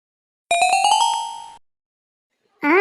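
An electronic doorbell chimes once, a bright rising melodic tone that rings for about a second and stops, followed by a short sound after a pause.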